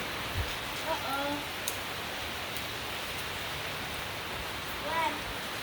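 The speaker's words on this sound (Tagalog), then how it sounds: "It's raining now." Steady outdoor rain hissing evenly throughout, a soft continuous wash of drops, with a few faint bird chirps and brief distant voices over it.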